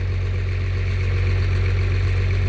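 A car engine with a loud racing exhaust pipe runs steadily, apparently driving a water pump, giving a constant droning throb with a high whine on top, close and unbroken throughout.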